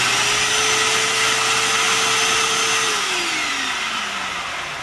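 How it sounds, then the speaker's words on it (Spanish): A Hoover U6252-910 upright vacuum cleaner runs after a belt replacement, with a loud steady whine and roar close up, its motor pitch holding and then sliding lower as it starts to wind down, and no voices. "Ya la aspiradora está aquí funcionando"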